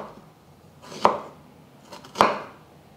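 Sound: slicing ginger with a knife

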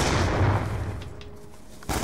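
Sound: gunshots in a first-person shooter video game

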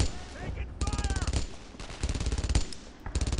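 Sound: gunfire in a war video game

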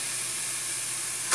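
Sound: beef brisket pieces hitting a hot pressure cooker

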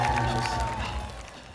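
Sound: audience applause and cheering for dance battle finalists

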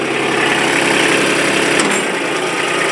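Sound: Kubota RTV900 utility vehicle diesel engine running

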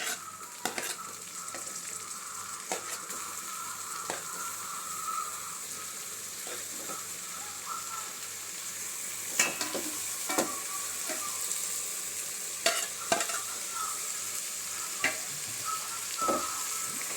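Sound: frying tomatoes and green chillies in a pan

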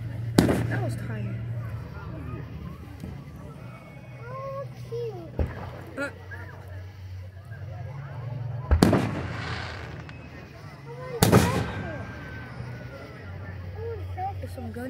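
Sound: fireworks exploding

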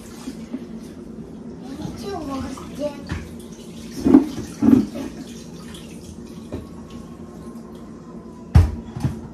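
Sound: water running while washing food in kitchen

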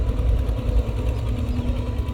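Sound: Caterpillar 320GX excavator, Perkins four-cylinder turbo engine

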